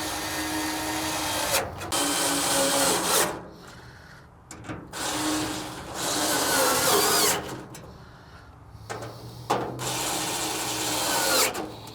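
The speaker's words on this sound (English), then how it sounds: "Now we're going to tighten up all 4 screws on the side of the hopper." A power drill drives and tightens four screws into the side hopper of a Camp Chef PGSBXXL XXL Pro pellet grill, giving several loud, sustained whirring runs broken by short pauses, close up and with no one speaking.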